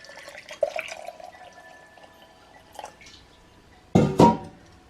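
Water from a cup is poured onto a heaping tablespoon of cane sugar in a container for a kombucha starter. Light drips and splashes come first, then a short, loud pour.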